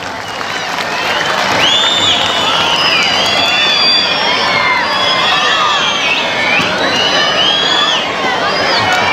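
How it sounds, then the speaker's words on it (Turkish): A crowd at a religious community event bursts into loud applause mixed with cheering and high-pitched shouts and whistles from children. It rises to a sustained, boisterous roar that carries on throughout. "Musab Çiftçi kardeşimizi bir alkışlayalım o zaman"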